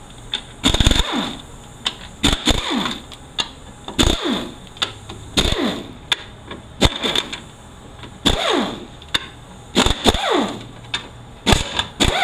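A ratchet loosens 10 mm pan bolts on a 4L80E automatic transmission, with bursts of quick clicking alternating with sharp metallic clanks and short pauses, close and fairly loud.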